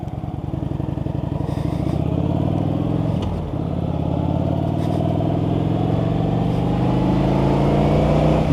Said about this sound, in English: It's a fire truck. Doing fire truck stuff.